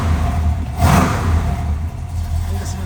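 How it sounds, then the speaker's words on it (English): A 1972 Oldsmobile Cutlass S with a Rocket 455 V8 and three-speed automatic, heard close up as a low rumbling engine with a short rev swell before settling back to a steady idle. "Let's give it a couple revs."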